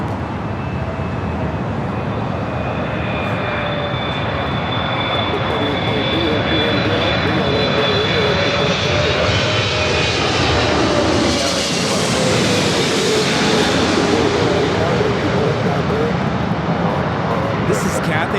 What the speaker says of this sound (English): This is Cathay Pacific Flight 882 coming in from Hong Kong on the 777 300ER